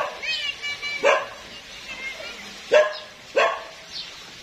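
A dog barking outdoors near a house with plants, a few sharp yips and barks spaced irregularly at moderate distance, with faint background voices and ambient noise between them.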